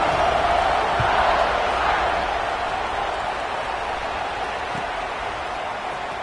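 Stadium crowd in a football video game after a score, a loud, steady roar of many voices filling the space, easing slightly toward the end with no distinct speech.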